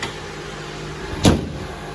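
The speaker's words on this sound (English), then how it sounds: "Let's shut the hood on it." The hood of a 2003–2008 Honda Element is slammed shut once midway, a single loud thud against a quiet garage background.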